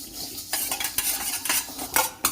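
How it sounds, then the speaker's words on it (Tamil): Rice and lentils roasting dry in a pan for a Diwali sweet, stirred with a metal spoon that scrapes and clinks against the pan in quick repeated strokes, close and fairly loud with no talk. "அரிசி பருப்பு சேர்த்து வறுத்துக்கலாம்."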